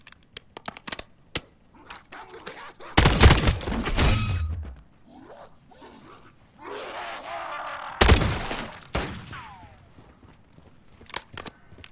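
Sharp, loud pistol shots from a Call of Duty Zombies match, two big bursts with scattered smaller pops and impacts, plus brief voices in between.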